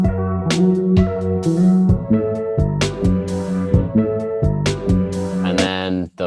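A hip-hop beat built from a chopped sample plays back at steady loudness, with punchy drum hits under looping harmonic melodic fragments that cut and restart in a choppy pattern, with no voices.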